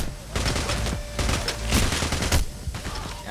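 Video game gunfire from Payday rattles in dense, rapid volleys, loud and continuous, with voices talking underneath.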